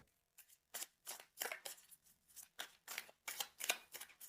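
Tarot cards are shuffled up close in a quick series of crisp, papery riffles and slides, about a dozen short bursts with brief pauses between.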